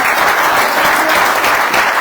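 A church congregation at an apostolic Christian fellowship gathering applauding in a continuous, dense wash of clapping, loud and even throughout with no pauses.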